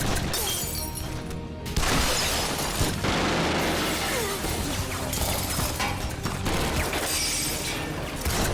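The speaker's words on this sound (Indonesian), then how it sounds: "tiba-tiba sebuah mobil menabrak mobil mereka sampai hancur" A car smashing into another car in a film scene, heard as loud crunching, shattering and metallic breaking noise that churns continuously with a sharp burst near the two-second mark.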